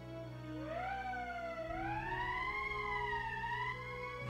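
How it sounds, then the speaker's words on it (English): An emergency siren wails in the video game Valkyria Chronicles, a sustained rising and falling electronic tone that is steady and continuous, heard alone at a low level. "That's the emergency siren."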